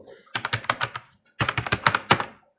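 Rapid keystrokes on a computer keyboard while an online voter form for West Bengal is filled in, coming in two close, clattering bursts separated by a short pause, with no voices.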